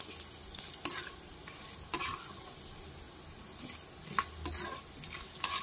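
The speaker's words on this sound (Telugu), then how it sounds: "సో పోపు అయితే వేగిపోతుంది." Popu tempering spices fry in a pan for a mango chutney, giving a steady soft sizzle with a few sharp clicks and scrapes of stirring, close and fairly quiet.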